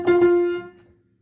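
A musical perfect fourth sounds as two clear pitched notes struck in quick succession, close and moderately loud with no talk, then ringing together and fading out over about a second.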